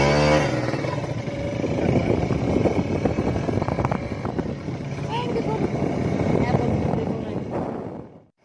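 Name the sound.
riding a motorcycle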